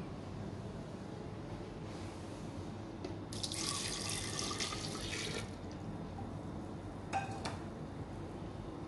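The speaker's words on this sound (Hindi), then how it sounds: "अब हम अपने तमाम इंग्रेडिएंट्स जग में डालेंगे।" Liquid ingredients for a stained glass jelly cake, gelatin, water and condensed milk, poured into a jug, giving a steady close pour with a louder splashing stretch in the middle and brief trickles near the end.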